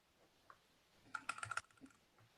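A quick burst of key presses on a stenography keyboard, with a few soft taps followed by a tight cluster of rapid clicky strokes, close and quiet with no talking.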